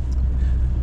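A Lada Niva driving off-road through clay gives a brief, close, steady low engine rumble that lasts under a second.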